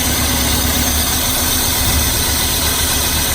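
A car engine idles steadily with the spark disconnected from one cylinder, a loud continuous rumble with a slightly uneven, vibrating tone and no speech.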